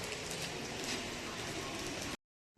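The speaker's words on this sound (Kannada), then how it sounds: "ಮಳೆ ಜೋರಾಗ್ತಾ ಇದೆ." Heavy rain pours down at a college with a muddy parking area, a loud, dense, unbroken hiss of drops striking surfaces that cuts off abruptly into silence near the end.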